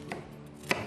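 A knife chops eggplant on a cutting board during home cooking, with two quick, crisp knife strikes, close and fairly quiet, and no talking.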